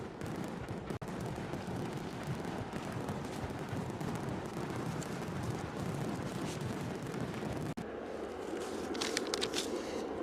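Fireworks sound effect played on a live stream to mark a gifted membership: a dense, continuous crackle and rumble of bursts and booms filling the whole stretch, loud and steady, with brief dropouts and brighter sizzling crackles near the end.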